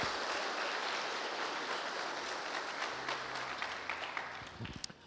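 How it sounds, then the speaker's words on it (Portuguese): A church congregation bursts into sustained, dense applause that fills the space evenly, loud and continuous throughout, with a few louder individual claps near the end as it starts to taper. "Dá um aplauso forte a Ele, querido."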